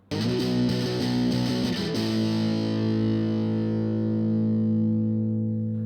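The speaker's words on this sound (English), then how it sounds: "using a distortion pedal and wobbling the neck a bit to make the sound wobble" An electric guitar chord rings out through a distortion pedal, strummed a few times and then left to sustain with a slight wobble from neck bending and whammy bar as it slowly fades.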